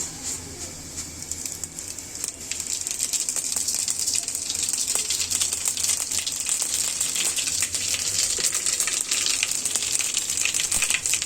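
Cinnamon, mustard seeds, cumin and two kinds of turmeric and red chili hit hot oil in a pot and keep sizzling and crackling with a bright hiss and scattered pops, growing louder after a quieter start.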